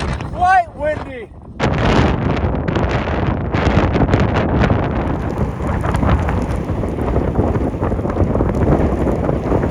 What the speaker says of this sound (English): It was really, really windy.